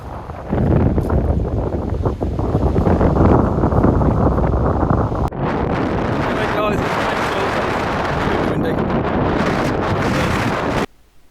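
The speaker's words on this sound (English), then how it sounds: "it's so windy, even the crow's struggling to fly" Heavy wind buffets a Sony RX10 IV camera microphone outdoors on a very windy day, a loud continuous roar with gusty rumble throughout, easing briefly midway and cutting off abruptly near the end.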